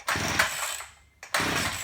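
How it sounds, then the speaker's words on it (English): A small two-stroke engine on an easy start chainsaw or weed eater sputters to life as it is drop started, revving raggedly, briefly dying down, then catching again with a loud buzzing roar. "some people will actually drop their equipment like this"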